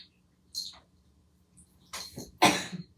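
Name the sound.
cough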